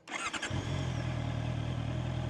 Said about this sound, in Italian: Accendiamo il motore normalmente.